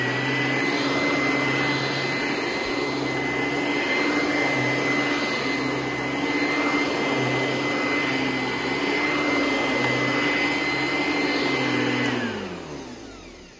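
An old vacuum cleaner restored from bad shape runs steadily with a loud, whining motor drone for several seconds, then spins down as it's switched off.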